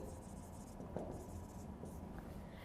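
Pen or marker strokes writing a heading on paper or a board, a faint continuous scratching with one slightly sharper tap, low under a steady room hum, no talk.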